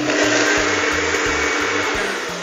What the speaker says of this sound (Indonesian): Langsung kita masukkan ke dalam blender. Oke. Ya, kita masukkan. Kita tutup dan kita blend ya.